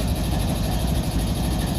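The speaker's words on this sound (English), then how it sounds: "There goes the air compressor." A locomotive's air compressor runs with a steady, loud, droning mechanical hum and rumble, close and unbroken for the whole short stretch.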